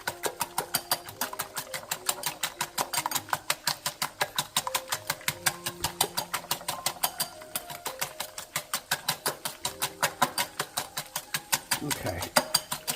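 Eggs whisked in a bowl for scrambled eggs with diced ham make a fast, steady train of rhythmic clicking strokes close by, continuing without a break for the whole stretch.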